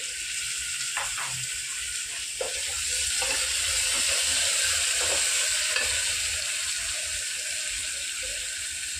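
Green chilies and tomato frying in a pan, a loud continuous sizzle close up with a few soft clinks and scrapes of stirring, no voices.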